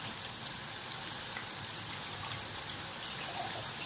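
Water from a cup poured into a pan of eggplant with oil, vinegar and garlic, giving a steady, even hiss like rain across the whole stretch. The sound is close and moderately loud, with no talking.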